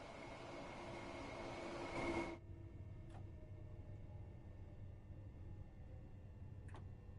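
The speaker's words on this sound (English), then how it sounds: "The train has safely come to a stop." A train in a train simulator game rumbles steadily, then a burst of hissing brake air cuts off as it stops, leaving a low idling hum with a couple of faint clicks.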